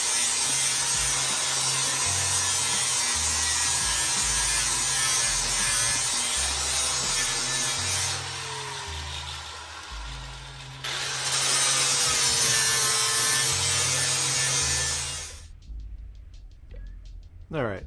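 Power tool grinding scale and rust off the steel frame of a 1960 Cadillac hearse in a shop, a loud, continuous high whine that drops briefly in the middle and cuts off near the end, with music playing underneath.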